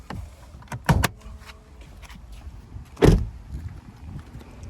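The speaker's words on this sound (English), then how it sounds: "start by popping the hood" Inside a 2025 Toyota Camry, the hood release is pulled, giving a couple of sharp mechanical clunks and thuds near the start and another loud clunk midway, with quiet cabin rustling between them and no talk.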